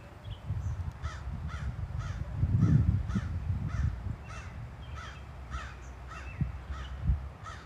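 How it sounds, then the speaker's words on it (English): Crows in a cemetery in Fort Edward, New York, caw over and over in a steady rhythm from above, fairly close, with low outdoor rumble and handling noise underneath. "Look at that crow is going wild up there."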